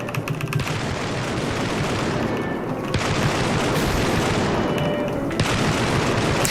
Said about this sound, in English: And you shoot the invading demons.